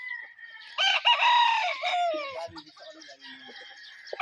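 A rooster crows loudly up close, followed by clucking chickens and some scattered shuffling noises.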